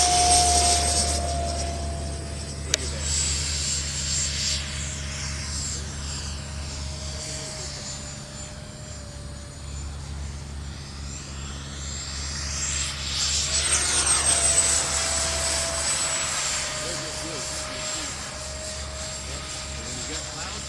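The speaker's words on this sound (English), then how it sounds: "We're going to start with the Freewing, show you how it does." A Freewing F-16 RC model jet flies overhead with a whining electric ducted-fan roar that rises, recedes and swells again as it passes at varying distance, and someone talks intermittently over it.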